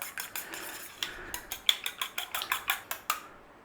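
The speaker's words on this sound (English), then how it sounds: "we got a couple of eggs, so just give them a beating" A couple of eggs beaten in a bowl for pecan pie bars, with vanilla and corn syrup already added, a quick steady series of about a dozen close, light clicking taps of utensil against bowl.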